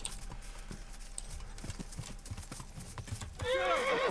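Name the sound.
horse hooves and neigh in video game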